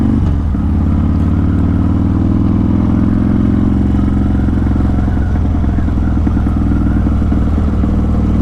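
A motorcycle rides through town traffic, its engine droning loud and steady close to the rider, with a slight rise in pitch as it accelerates and wind rumble underneath.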